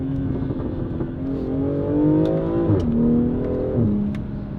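BMW X4 M40i with its B58 engine revs through the exhaust, two rising sweeps that each fall off sharply, close and loud with a crackle of burbles at the drops, and no voices.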